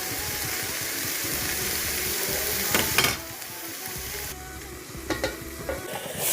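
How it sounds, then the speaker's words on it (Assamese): Chicken curry sizzling in a pan while being stirred, a steady frying hiss with a few scraping clatters of the spoon against the pan, close and fairly loud, with no talking. "মই আকৌ এবাৰ লৰাই দিম"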